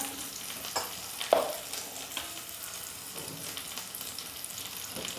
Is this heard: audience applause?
no